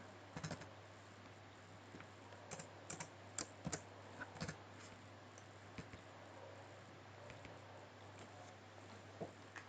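Typing on a computer keyboard while entering PHP and MySQL code, light irregular key clicks and taps in short bursts, close but quiet over a faint steady hum.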